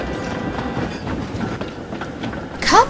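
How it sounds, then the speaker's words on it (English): Toy steam engines shunt a train of cars along a model railway, giving a steady, close rolling clatter of wheels on track that ends in a brief high squeal. "Emily shunted into place and Spencer arranged her train."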